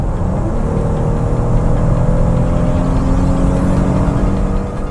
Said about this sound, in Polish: Jak przed chwilą słyszeliście, w dużym aucie mamy duży silnik